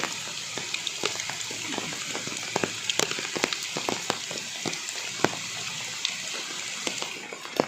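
Steady rain patters on a surface, with scattered louder drips landing close by against a constant wash of falling water.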